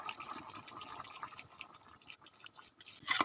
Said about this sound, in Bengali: তারপর পানি দিয়ে দিচ্ছি